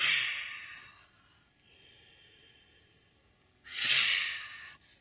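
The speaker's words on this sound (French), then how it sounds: "vous entendez ma respiration, mon expiration bouche ouverte" Two long open-mouth exhalations during full-moon qi gong breathing, close and breathy, each fading out, with a soft quieter breath between them.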